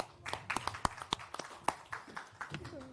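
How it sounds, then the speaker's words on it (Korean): Audience applause welcoming an outside expert guest at a Korean political party event, scattered claps of moderate loudness spread through the room, irregular and fairly sparse rather than a dense ovation. "호명하시면 큰 박수로 맞이해 주시면 감사하겠습니다."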